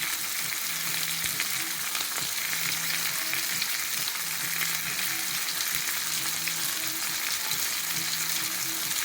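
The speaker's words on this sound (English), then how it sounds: "So we've got our chicken sizzling away" Chicken sizzles and crackles steadily in a hot pan, a constant close hiss with a faint low hum underneath and no voices.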